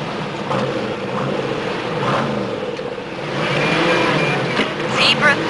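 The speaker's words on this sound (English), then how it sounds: "We'll rev it up, get the feel of it." A fast car's engine idles and then revs up harder in a couple of rising surges, fairly close and loud, with faint voices in the background.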